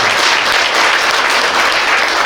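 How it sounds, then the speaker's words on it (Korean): A congregation at a New Year worship service of a Korean church gives loud, sustained applause, a dense, even wash of many hands clapping with no pauses. "박수"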